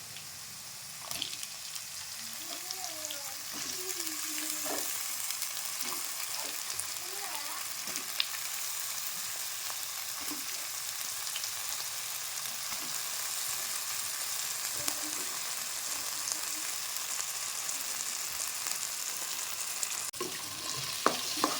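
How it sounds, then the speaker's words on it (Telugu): Soft, steady sizzling of potato pieces frying in a pan with onions, occasional stirring clinks, fairly quiet and continuous, a faint voice murmuring early on. "మనం ఆలుగడ్డ ముక్కలు వేసుకోవాలి"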